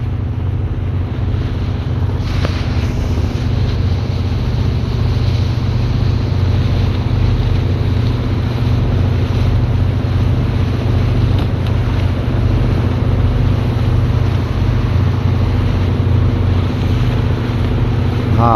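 Steady low engine drone of motorboats running continuously at a loading anchorage in Loreto, with wind buffeting the microphone throughout and no talking.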